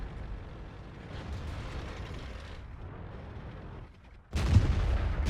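Heavy tank cannon fire from World of Tanks, a deep booming blast that bursts in suddenly near the end, loud and close, over a continuous low rumble of engine and battlefield noise with no talking.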